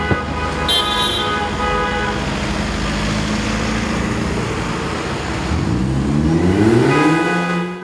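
Volkswagen group cars in a parade honk repeatedly over steady traffic rumble, with horn blasts near the start and end and an engine revving up toward the close.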